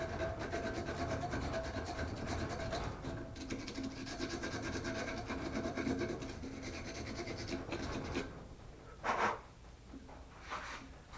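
Steady close scraping and rasping as sandpaper wrapped on a screwdriver rubs over a vintage tractor wrench, continuous for several seconds before tapering off into a few separate scuffs.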